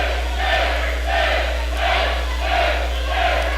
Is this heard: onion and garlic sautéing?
no